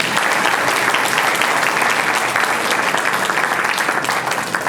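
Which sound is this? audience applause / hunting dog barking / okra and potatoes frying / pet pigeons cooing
audience applause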